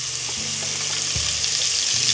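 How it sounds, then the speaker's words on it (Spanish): A cube of butter and olive oil sizzling in a small pot over low heat, an even hissing fry with faint stirring taps, steady and close without speech. "En la ollita ponemos un cubito de manteca y enseguida le ponemos el aceite de oliva"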